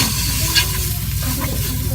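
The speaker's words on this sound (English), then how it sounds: "You want to mix this very well." A spoon stirs a whole can of tomato paste into a dry roux mixture, making a steady, close scraping and mixing sound with no talking.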